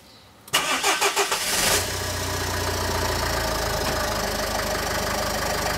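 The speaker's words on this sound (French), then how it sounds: "je vais allumer le véhicule" A car engine cranks over with several rhythmic turns, catches, and settles into a steady, fairly loud idle with no one speaking.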